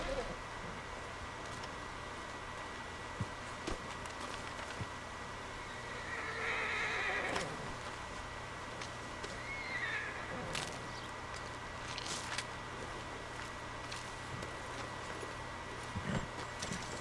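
A horse in Red Dead Redemption 2 gives a couple of short, fairly faint neighs over low ambient game sound. Occasional light hoof clops are also heard.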